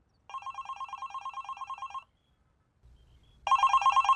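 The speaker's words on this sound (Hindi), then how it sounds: "तुम्हारा फोन भी तभी बजता है।" A telephone rings with a bright electronic trill: one long ringing burst, a short gap with faint low rumble, then ringing again, close and clear with no voices.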